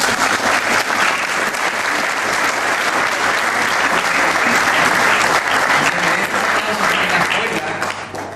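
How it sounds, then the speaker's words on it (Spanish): Loud, sustained applause from an audience at a music school graduation ceremony for harp students, a thick wash of many hands clapping close by that holds steady for about eight seconds. "Un aplauso."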